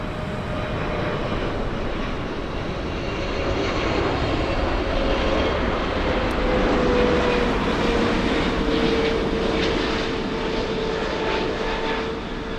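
An airliner lands at Frankfurt Airport in a gusty crosswind, its engines a loud, steady roar with a faint whine gliding slowly downward, sustained throughout without any talk.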